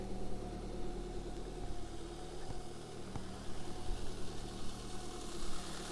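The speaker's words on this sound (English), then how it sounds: "Got a stainless steel exhaust which sounds good." A Lancia Delta Integrale Evo1 with a stainless steel exhaust idles steadily, giving an even, close, moderately loud engine hum with a faint rhythmic pulse and no talk.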